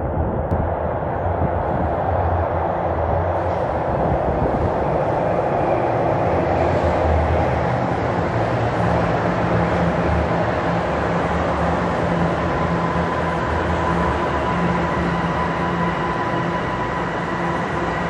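A Toronto subway train at York University Station rumbles loud and steady, with a broad continuous roar of wheels and motors and a faint high whine, sustained without a break.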